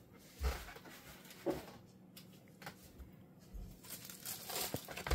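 A PlayStation 5 Pro console is freed from Styrofoam and its plastic film, with soft crinkling and rustling of the wrap, a few louder bumps and handling noises in a quiet room.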